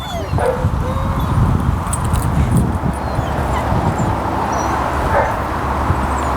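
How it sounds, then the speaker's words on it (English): A dog whines and whimpers in short, thin cries over a steady background hum, fairly close, with faint yips mixed in. "Whenever a dog whines like that, for some reason they make that wince noise"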